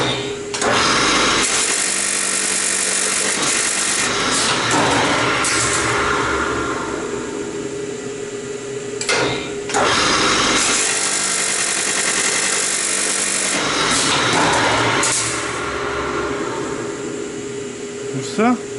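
A homemade machine runs with a loud, continuous whirring and rattling hum, cutting out briefly twice and starting again, while someone talks over it.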